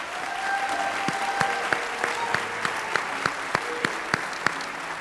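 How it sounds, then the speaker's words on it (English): Audience at a school district awards ceremony applauding students, a steady hall-filling patter of many hands with a few louder individual claps punctuating it, no talk. "Let's give another round of applause for our students from Tomball High School."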